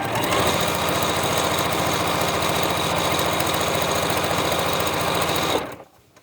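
A sewing machine stitches a quilt block for the Legit Kits Iris block-of-the-month, running steadily and loud with a fast even needle rhythm for several seconds before stopping abruptly.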